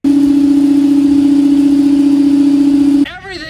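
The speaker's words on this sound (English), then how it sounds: "Whenever you hear the sound coming from your stepper motors, it usually means there's not enough current being supplied to the motor." Stepper motors on a 3D printer vibrate from too little current, giving a loud, steady droning buzz for about three seconds before it abruptly cuts off.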